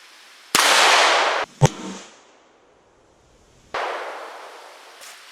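A handgun fires .38 Special full metal jacket rounds at a light steel plate: loud, sharp reports with a crack and brief ring, two heavy bursts separated by a few seconds of quiet, no talking.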